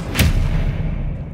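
Bombarda spell blast in the Hogwarts Legacy video game: a single loud, deep explosive boom near the start, followed by a rumbling low tail that fades slowly.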